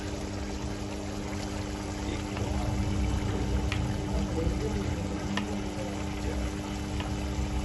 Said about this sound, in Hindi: 5 चम्मच इसमें दही ऐड कर देते हैं